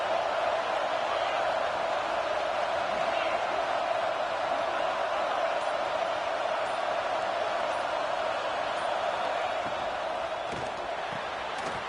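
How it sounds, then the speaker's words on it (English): A roaring stadium crowd at a college football game between Ohio State and Auburn keeps up a dense, constant wall of cheering and noise throughout, loud and unbroken. "This crowd, full throat, splitting the eardrums and letting them know it's going to be a long day."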